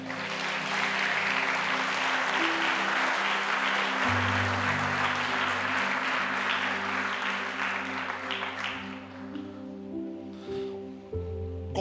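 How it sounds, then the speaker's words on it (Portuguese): A church congregation applauds during a sermon, a dense, steady wash of clapping that holds loudly, then thins and softens toward the end over a low sustained musical drone. "você pode aplaudir o Senhor"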